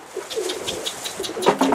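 Pigeons coo in a soft, repeated series of throaty calls at a coop, fairly close and clear with no talking, while a few faint flutters sound in the background.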